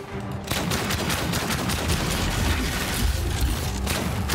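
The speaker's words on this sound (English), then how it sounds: "Oh, that's where you are shooting from." Sustained gunfire from robot enemies in the Outcast video game, a dense, loud rattle of rapid shots and bursts that starts after a brief quiet moment and continues without letup.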